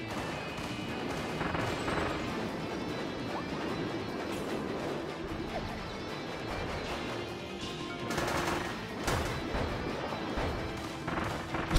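Dense, chaotic combat noise from the video game Kirby and the Forgotten Land, with repeated bangs, crashes, explosions and rapid gunfire-like bursts, a continuous loud barrage with sharper blasts near the end.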